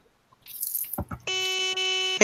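A sustained electronic beep sounds steadily for about a second after a few soft clicks and rustling, loud and close.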